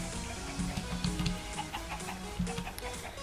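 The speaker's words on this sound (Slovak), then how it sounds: "Ešte potom nejaká sliepka." Chickens in the Minecraft video game give a few short clucks over steady background game sound, moderately loud with no talking.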